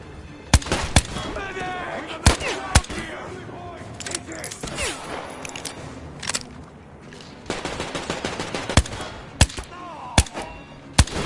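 Rapid bursts and single sharp shots of gunfire from a PS4 shooter game, loud and near, repeating throughout with shouted voices and game effects underneath.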